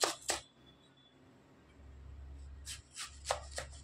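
Knife chopping a large raw plantain into thick slices on a board, a few sharp close thuds at the start, a pause, then a quick cluster of four or five cuts.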